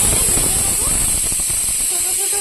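Potato fritters, small bora-sized pieces, frying in hot oil for a festive Ekadashi offering, a steady loud sizzling hiss running throughout with faint crackling underneath, no talk.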